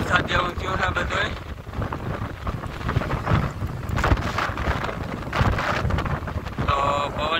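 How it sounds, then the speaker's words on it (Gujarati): Strong wind gusts through a village during a lightning storm, roaring and buffeting the microphone loudly and continuously, with no clear thunderclap standing out. "તો પવન નીકળો છે જોરદાર અને વીજળી થઈ છે."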